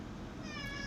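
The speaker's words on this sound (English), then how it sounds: "That's my cat there purring" A pet cat purrs up close with a soft, continuous low rumble, and a faint tonal cry rises briefly over it.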